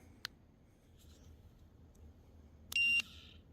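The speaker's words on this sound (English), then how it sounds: "Just one quick little beep," A short, high electronic beep from an ultrasonic dog bark deterrent sounds once near the end, clear against a quiet background, with a couple of faint clicks before it.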